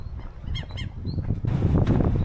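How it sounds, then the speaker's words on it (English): Protective birds near a remote rotten cabin give a few short honking calls, fairly close, followed by a burst of rushing wind noise. "Lots of protective birds here."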